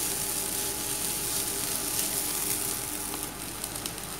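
Soya chunks sizzle steadily in an oiled frying pan as they are stirred, giving a constant close hiss and crackle. A few faint stirring scrapes come through toward the end.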